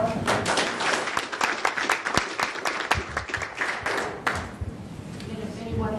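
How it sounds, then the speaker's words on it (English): Audience applause after a talk on social science modeling and sustainability: scattered, distinct claps from a modest crowd that thin out and fade toward the end. "First, we'll give Scott a round of applause."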